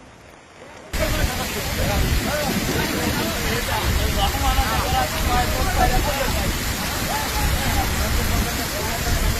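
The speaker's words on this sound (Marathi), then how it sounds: "आणखी पाऊस चालू आहे" Steady heavy cloudburst rain in Nanded hissing and pattering after a quiet first second, continuous and close, with a faint murmur of background voices mixed in.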